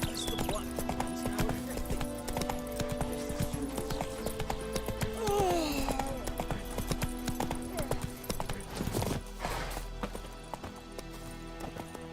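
Geralt's horse Roach trotting in The Witcher 3, with clear rhythmic clip-clop hoofbeats close by, a brief whinny, and game voices talking over the steady hooves.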